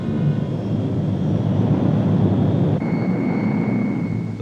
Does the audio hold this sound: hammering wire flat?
no